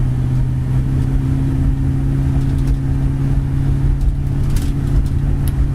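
A 1968 Chevy pickup's built 350 V8 with a four-barrel carburetor runs at a steady, loud, close rumble, with strong low harmonics and no talk over it.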